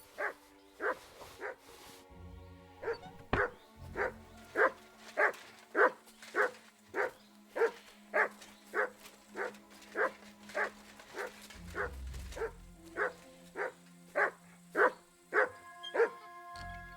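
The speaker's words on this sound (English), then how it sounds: "Dog, I can hear you." A dog barks steadily and repeatedly in Kingdom Come: Deliverance II, a long run of evenly spaced barks at moderate distance over quiet background rumble, with no talking.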